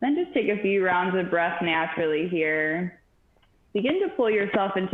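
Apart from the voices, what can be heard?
No everyday noises stand out.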